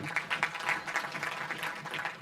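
A lecture hall audience claps for the Premier, a short, steady patter of applause at moderate loudness with no voices over it.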